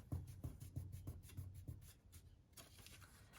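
Paper is folded and creased for an Easter chicken craft, giving a quiet run of close, rhythmic rubbing strokes that trail off into soft handling noise.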